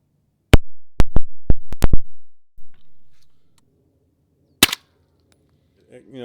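A firearm fires several sharp, loud gunshots in a quick uneven burst, then one more crack after a pause, each with a short decaying tail, close to the microphone.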